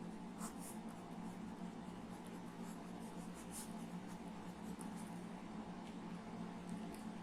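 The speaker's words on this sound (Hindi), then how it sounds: "तो इसे लिखेंगे" Pen or chalk scratches on a surface during a class 6 maths lesson, faint and intermittent strokes over a quiet room hum.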